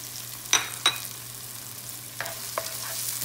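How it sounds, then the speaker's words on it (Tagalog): Sliced onions dropped into a pan for sautéed bitter gourd: two quick clatters as they land and are stirred, then a soft, steady sizzle with a few lighter scrapes of a spatula, no voices. "Lagay ko na yung sibuyas."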